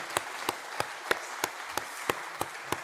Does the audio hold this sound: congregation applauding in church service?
yes